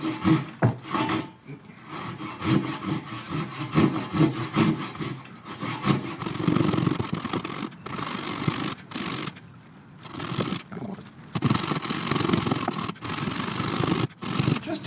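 Hand saw working through a thick walnut slab, a steady run of rasping back-and-forth strokes with brief pauses between cuts, close and fairly loud with no talking.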